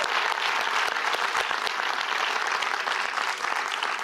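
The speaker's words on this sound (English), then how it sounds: "let's give them a round of applause." Audience applause at a women's business show event, dense and steady clapping filling the whole stretch at close range, no voices over it.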